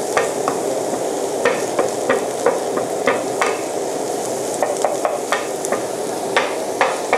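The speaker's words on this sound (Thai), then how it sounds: "ผมผัดด้วยไฟอ่อนนะฮะ" Stir-frying in a pan over low heat while making creamy pasta with Thai fermented pork (naem): a steady soft sizzle under repeated light scraping and tapping of a utensil against the pan, close and without talk.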